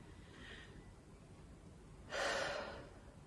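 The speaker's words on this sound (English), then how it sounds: "Take a moment and breathe in deeply." A single deep in-breath drawn slowly through the nose and mouth during a calm grounding exercise, soft and close, following a faint earlier breath.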